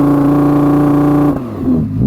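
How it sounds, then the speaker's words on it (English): Audi R8 V10 rear-wheel-drive engine revving with launch control engaged, a loud sustained high-pitched howl held steady before dropping off into a lower burbling idle, no talking. "If you engage launch control, then you can sort of rev it."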